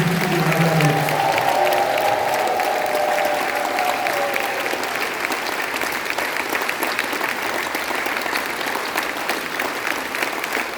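Mass congregation at an evangelization seminar applauding and acclaiming Jesus Christ, dense sustained clapping with cheering voices that swell at the start and then settle into a steady ovation.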